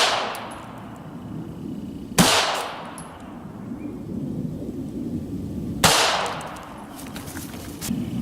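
Two loud, sharp 9mm pistol shots from a Beretta 92 FS with a 4.9-inch barrel firing 147 grain rounds, several seconds apart, each with a ringing decay over a low background rumble.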